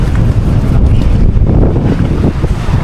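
Steady blustery wind buffeting the microphone with a continuous low rumble of strong waves and surf beneath at Dinahican, no voices.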